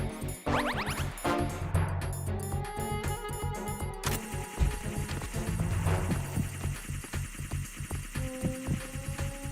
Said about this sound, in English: I hear drones.